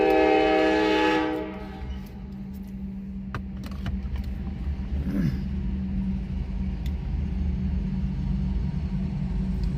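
A CSX freight train, locomotive 537, climbs a northbound uphill grade with a loud horn blast at the start, then settles into a steady low diesel rumble and rolling wheel noise, with faint clanks along the way.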